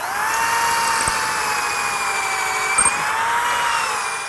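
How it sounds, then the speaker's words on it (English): Steady, loud whine of a power drill boring pocket holes into wooden cabinet face-frame rails, continuous and close with no talking. "You're basically drilling pocket holes"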